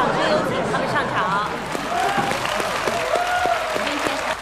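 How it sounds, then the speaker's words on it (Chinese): A studio audience applauds to welcome a band onto the stage, a steady wash of clapping with some scattered voices and chatter mixed in. "来，我们掌声有请他们上场。"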